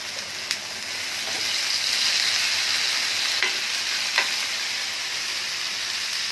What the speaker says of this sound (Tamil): இப்போ அடைக்கு ஊற்றுறேன்.